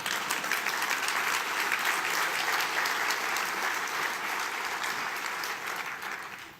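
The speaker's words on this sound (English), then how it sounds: "You can clap for that" Steady, full audience applause in a conference hall at a LISC leadership event, a dense wash of clapping that holds for several seconds before tapering off at the end, with no talking over it.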